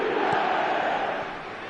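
Stadium crowd in the eFootball video game roaring and cheering as a comeback builds, a broad sustained crowd swell that eases off slightly near the end, without commentary over it.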